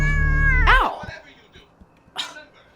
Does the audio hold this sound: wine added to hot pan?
no